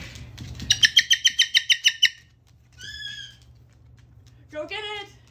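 A pet bird gives a rapid string of about ten sharp chirps, then two short whistled calls after pauses, close by over a low steady hum.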